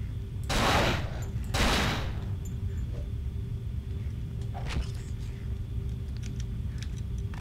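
Gunfire in the Cold Fear video game: two loud bursts of shots close together near the start, then a faint shot later over a steady low rumble of background noise.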